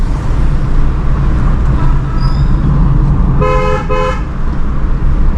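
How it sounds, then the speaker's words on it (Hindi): A car horn sounds twice in quick succession, honking at a Maruti Dzire in Indian city traffic, heard from inside the car over a steady engine and road rumble. "यहाँ पे डिजायर वाले को हॉर्न देंगे"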